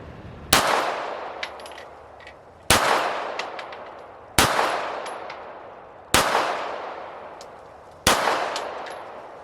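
Five sharp gunshots from an FN FNS9 pistol fired at a target, loud and close, spaced about two seconds apart, each followed by a ringing decay and faint clangs.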